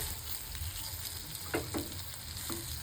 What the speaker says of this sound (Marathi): तर इथे जे आहे आपण मच्छी आहे ती पलटून घेऊया। बघू शकता एका साईडून व्यवस्थित फ्राय झाली आहे ती।